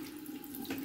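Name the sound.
water tap turned on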